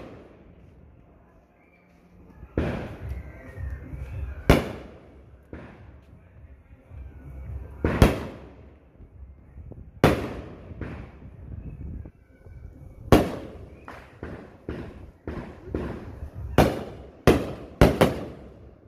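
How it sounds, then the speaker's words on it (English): New Year's fireworks burst one after another, sharp loud bangs at irregular intervals, clustering faster toward the end, with faint voices between blasts. "Check out the fireworks, man."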